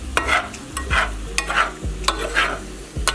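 Tofu scramble is stirred in a hot pan: a rhythmic series of scraping strokes, about four or five, over a light sizzle, close and with no talking.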